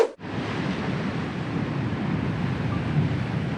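Strong ocean waves at a rocky coast in Munmorah National Park near Sydney make a continuous close roar of surf with wind buffeting the microphone and no speech.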